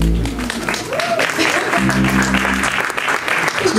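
A concert audience claps and cheers at a live show at Divan du Monde in Paris, a dense, sustained wash of applause while a voice talks over it.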